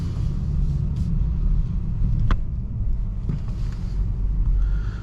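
A 2023 BMW M240i pulls away in comfort mode, heard from inside as a steady low engine and road rumble with light wind noise, continuous and fairly loud.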